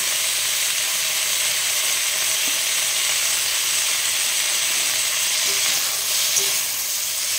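Ginger and green chili paste with cumin powder frying in a pan for a Bengali amaranth-stem dish, giving a steady, close hiss of sizzling that runs unbroken with no talk.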